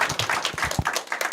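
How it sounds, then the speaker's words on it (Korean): A church congregation applauds in celebration, a short burst of dense, lively clapping that fills the room. "우리 축하의 박수 한번 해주시고요."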